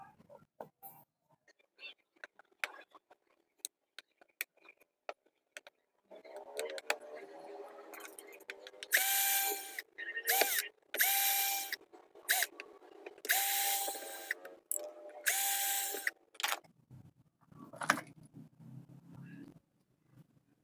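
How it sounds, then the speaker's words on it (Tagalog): Four screws are backed out of a faulty angle grinder whose worn bearing makes it hard to spin, giving a close, repeated bright metallic ratcheting in several short bursts with quieter handling clicks between. "Babaklasin ko na rin tong 4 na tornilyo na to."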